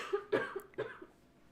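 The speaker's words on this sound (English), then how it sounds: "I also have a coughing wife sitting next to me." A woman nearby coughs in two quick, short bursts, with a fainter catch trailing after, all fairly quiet against a near-silent room.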